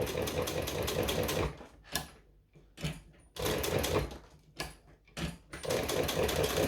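A sewing machine stitches a fabric strap in bursts of rapid needle chatter, stopping and restarting several times with short quiet gaps between runs.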